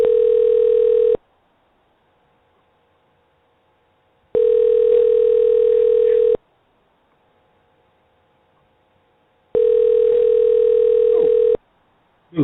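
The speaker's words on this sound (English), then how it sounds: "I'm about to call this guy." An outgoing telephone call rings through, with three long, even tones separated by silent gaps, clear and close with no talking.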